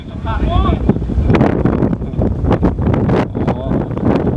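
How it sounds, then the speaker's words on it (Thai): Strong gusting wind roars across an outdoor community football match, buffeting the microphone in loud continuous blasts while a commentator speaks over it. "ลมหัวกุดไม่ต้องตกใจพี่น้อง"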